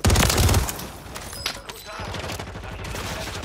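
Sniper rifle fire in the video game Warzone 3 opens with a loud, close burst of gunshots, then trails into rumbling echoes and a lower, continuing layer of game noise.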